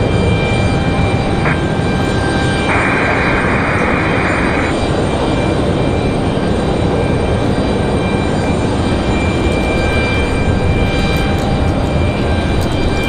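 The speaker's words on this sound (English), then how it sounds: "So we got a Delta on the move, ready for departure" A Delta airliner moves out for departure at Raleigh Durham airport, filling the air with a loud, constant engine rumble and whine, and a brief higher tone rises over it near the start.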